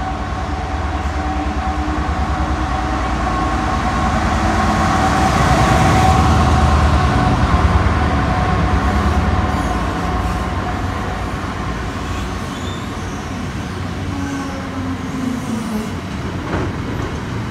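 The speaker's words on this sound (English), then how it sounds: "We've got a class 66 goods train coming through platform 2 with the ballast going north" A Class 66 diesel hauling ballast trucks through a railway station platform, a loud continuous rumble with grinding wheel noise that swells in the middle and then holds steady.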